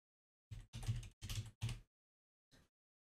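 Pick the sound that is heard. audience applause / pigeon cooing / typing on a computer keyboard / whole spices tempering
typing on a computer keyboard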